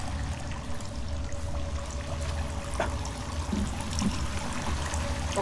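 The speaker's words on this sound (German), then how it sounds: "Ja, hier war der Wasserfall." Water pours and trickles steadily inside a cave where a waterfall runs, a constant moderately loud wash of falling water with a few faint knocks and scrapes on top.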